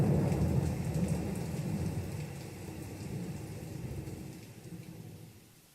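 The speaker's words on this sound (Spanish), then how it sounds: "El sonido de las gotas rompiendo el silencio conforma una atmósfera imperdible." Steady rain patters on surfaces while low thunder rumbles underneath, a soft, even downpour that fades slightly toward the end.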